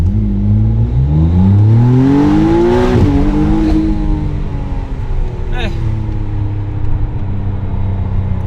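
A McLaren Artura exhaust revs hard, rising and falling in pitch with a loud, throaty roar that stays close and continuous.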